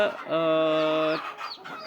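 A hen on a free-range poultry and goat farm gives one drawn-out, tonal cluck close by, then a few softer, broken clucks. Nothing else is heard.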